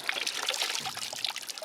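Clear spring water trickling and splashing steadily at a holy spring in Siberia that stays unfrozen year-round, a close, continuous burbling pour with no talking.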